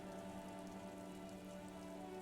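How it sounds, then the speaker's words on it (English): Steady rain falls on roofs in the video game Disco Elysium, with a dense, continuous patter and drip that holds at the same level for about two seconds, with no voices. "Urban coastline, rain dripping off Eternite-covered roofs"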